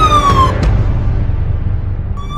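A loud siren wails through a Covid lockdown street, its tone sweeping up and down and then fading into a wash of traffic rumble before it starts rising again.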